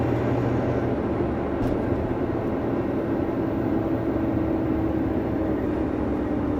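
A Volvo truck engine rated at 425 horsepower with a hot tune, a loud steady low drone heard from inside the cab, constant with no shifts or breaks.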